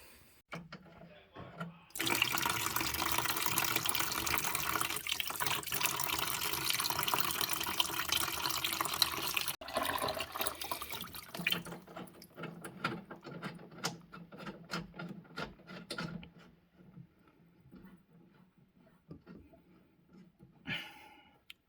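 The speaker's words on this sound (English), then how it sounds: "Just waiting for this to drain." Water drains steadily from a gas boiler heating system during a boiler swap and flush, a loud continuous rushing that runs for several seconds, then thins into fainter trickling and intermittent splashes.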